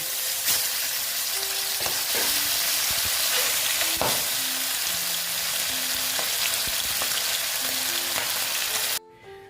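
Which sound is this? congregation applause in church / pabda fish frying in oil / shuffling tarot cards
pabda fish frying in oil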